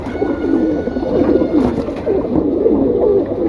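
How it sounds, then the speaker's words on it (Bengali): Pet pigeons coo close by in repeated low, rolling calls that overlap one another, loud and clear with no talking. "আমি জাস্ট কবুতরগুলো আপনারা এক এক করে একটু দেখাই"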